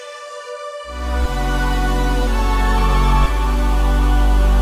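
Serum 2 SY Action Hero synth preset playing rich, bright sustained chords that enter after a brief thin intro, then swell into a loud, dense wall of sound with a chord change partway through.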